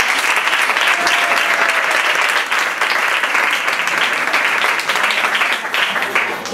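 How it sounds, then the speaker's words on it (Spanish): Sustained audience applause at a live acoustic concert in a Fnac store, a dense, steady wash of many hands clapping close by for the full stretch, with no voices over it. "Me acompaña el grandísimo Jordi Bastida, un fuerte aplauso."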